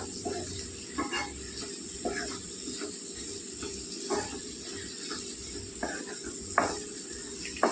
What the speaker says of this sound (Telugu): కొద్దిగా నూనెలో వేసుకోవాలండి కారం వేగేలాగా.